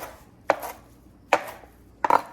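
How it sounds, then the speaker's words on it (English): A knife chops through cilantro on a cutting board in three sharp, separate strokes spaced evenly apart, each a crisp close thud with no voices around it. "To mince cilantro, you're gonna start with a large chop"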